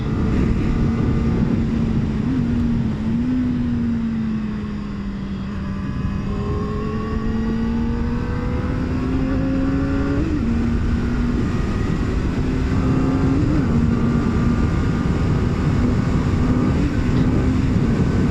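A Kawasaki ZX4-R motorcycle engine pulls hard under throttle, its close, loud whine sweeping upward in pitch over a constant rush of wind noise, without speech.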